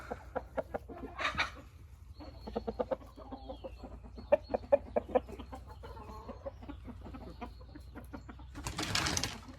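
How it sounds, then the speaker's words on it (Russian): Hens cluck in quick, irregular bursts close by, with a rooster among them, and short rustling flurries of wings at the start and end. "Петух прибежал защищать кур."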